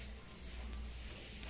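Live farmed crickets chirp in a continuous high, shrill trill, steady and fairly close, with no other sounds.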